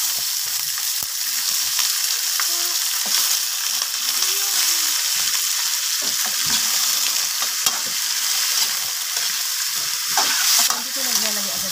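Bone-in chicken pieces fry in a hot pan for chicken adobo, a loud continuous sizzle with stirring scrapes and occasional pops throughout.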